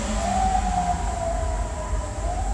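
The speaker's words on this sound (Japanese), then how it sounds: "ピーポーピーポー" An emergency vehicle siren wails steadily through a street, its tone rising and falling as it passes at moderate distance over low traffic rumble.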